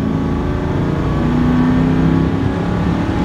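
A supercharged Mercedes C43 AMG W202 holds fourth gear as the engine revs, giving a loud, sustained, rising drone with a steady throb and no break.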